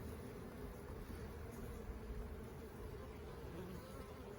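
Honey bees buzz in a dense, steady drone throughout, close and continuous, during an inspection of a newer hive.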